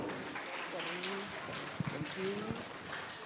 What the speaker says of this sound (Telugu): ఒకసారి గట్టిగా చప్పట్లు